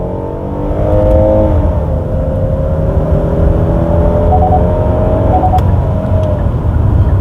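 A Hyundai Palisade's 3.8 V6 gasoline engine pulls hard under heavy throttle, a loud, steady rising drone with a harmonic whine climbing in pitch and one brief gear-shift dip, heard from inside the cabin.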